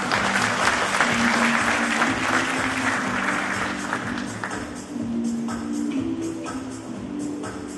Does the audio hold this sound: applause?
yes